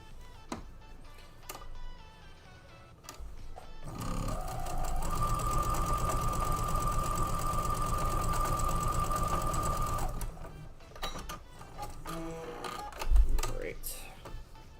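A sewing machine runs steadily for several seconds with a loud, even mechanical whir and a sustained tone, starting and stopping abruptly, with quieter clicks and handling sounds around it.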